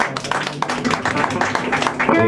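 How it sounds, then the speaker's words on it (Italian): A concert crowd claps for the band, a dense patter of hands mixed with a voice speaking over it, moderately loud and close. "Applauso ragazzi"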